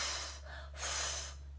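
A voice imitating a breathless, panting wolf from the Three Little Pigs tale: two breathy, gasping huffs of air close to the microphone, over a low steady hum.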